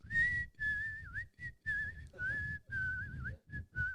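A person whistles a tune in a string of short, wavering notes with brief gaps between them, close and clear, with no talk over it.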